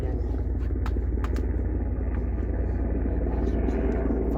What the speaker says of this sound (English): there's a helicopter again.